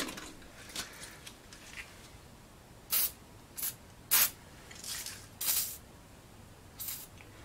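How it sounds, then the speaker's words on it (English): Short bursts of aerosol spray hiss out several times, irregularly spaced, against a quiet background. "we're gonna have to spray this thing"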